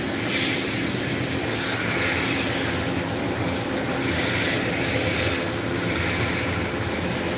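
Boeing airliner at Phuket International Airport, a loud, steady broadband engine roar that holds constant throughout, with no voices.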